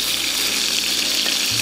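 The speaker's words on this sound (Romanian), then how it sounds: "Rumenim și tura 2, o scoatem și pe ea" Pieces of lamb, the second batch, brown in a hot pan for a Transylvanian-style lamb stew, giving a steady loud hiss and sizzle with no talking.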